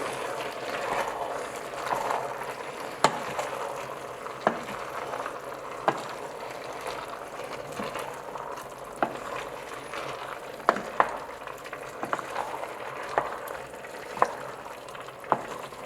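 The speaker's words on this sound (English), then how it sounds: "So we're going to stir this again, good through." Ratatouille vegetables with added tomatoes sizzle steadily in a pan while a spoon stirs through them, with scattered soft clinks and scrapes against the pan over a continuous frying hiss.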